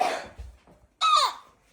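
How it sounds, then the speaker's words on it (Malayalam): Two short coughs separated by a brief pause, the second sharper and louder, close to the listener with no talking. "ചുമ ചുമ ചുമ."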